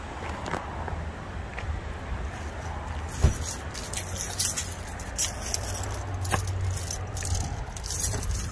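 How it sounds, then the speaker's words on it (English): A ring of keys jangling and rattling near a barn-find Ford Fairlane 500, bright metallic clinks in irregular bursts over a low background rumble, close and fairly loud, with no talking. "More keys than a janitor"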